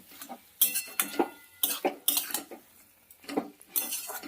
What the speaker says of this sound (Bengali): ভেজে রাখা পুটি মাছটা এবার দিয়ে দেবো এর মধ্যে এবার মিশিয়ে নেব মাছের সঙ্গে সবজি দিয়ে সব কিছু একসঙ্গে